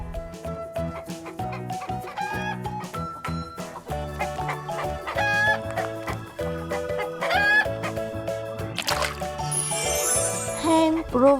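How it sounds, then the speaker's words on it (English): A hen clucking repeatedly in a children's farm-animal sound lesson, mixed over continuous upbeat background music, with sharper squawks near the end. "This is a hen."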